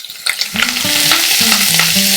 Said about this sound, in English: I am going to put in my onions, my potatoes.